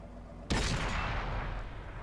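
A tank gun fires a single blind shot in World of Tanks, with the AMX 12t in play: one sudden heavy boom followed by a long rumbling decay.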